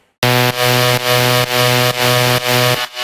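A synth note, originally a one-shot, sustains as a loud harmonic-rich tone with a pulsing retrigger roughly every half second, then cuts off near the end; no voices.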